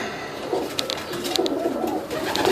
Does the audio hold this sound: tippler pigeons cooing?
yes